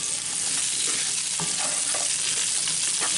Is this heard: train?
no